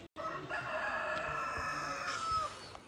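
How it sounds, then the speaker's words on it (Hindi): A hen calls with sustained, drawn-out cackling right after laying an egg, outdoors in the Spiti Valley; the calls are fairly loud and near over a steady background hum, with no talking. "ये भाई मुर्गी ने अंडा दिया अभी।"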